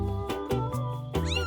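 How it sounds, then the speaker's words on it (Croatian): A cat meows clearly and close, giving a few short, bright calls in quick succession with nothing else around them. "Mačka i mače."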